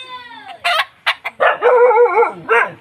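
A chicken crows and clucks up close, a short burst of loud, harsh calls with a brief pause in between.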